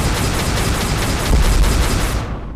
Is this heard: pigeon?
no